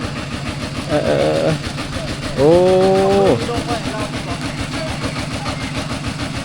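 A farm tractor engine chugs steadily in rural Laos, its rhythmic mid-pitched idle running throughout, with a voice and tonal vocal sounds briefly over it.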